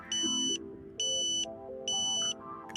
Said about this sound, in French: La tonalité ambulance,